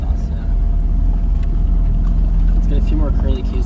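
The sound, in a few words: car turbo and exhaust noise after engine swap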